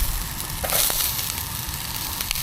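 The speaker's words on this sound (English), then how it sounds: "I'll just let that fry off for about 5 minutes or so, constantly stirring" Chinese curry ingredients fry in oil outdoors on a hike at Shugborough Hall Estate, a steady close sizzle with stirring scrapes and clatters running throughout.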